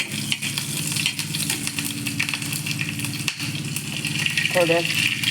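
Cumin, cloves, black pepper, cinnamon pieces and green chilli sizzle in hot oil with a constant crackling hiss and some stirring, close up, while a person talks faintly beneath it.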